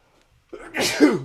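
One sneeze, a short inhaled build-up followed by a sharp, close burst, with no talk around it.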